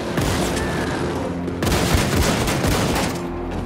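Dense gunfire in the final boss fight of Wolfenstein 2: The New Colossus against the Ausmerzer, rapid overlapping shots and booms, loud and continuous with a brief break midway.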